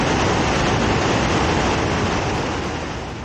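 Sunwapta Falls on the Icefields Parkway roars as a dense, steady rush of falling water, close and loud, easing slightly toward the end.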